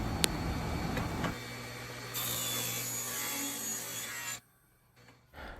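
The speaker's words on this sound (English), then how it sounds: "Next, I'll rip down the 1x6s to 2 1/2 inches." A saw rips lengthwise through a 1x6 wooden board for a farmhouse chair build, a steady close grinding cut that ends abruptly into near silence.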